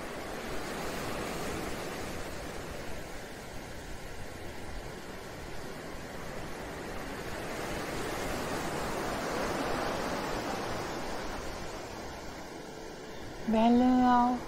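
Ocean waves surging and foaming, a continuous broad roar that swells and eases, with a short tonal sound at the very end.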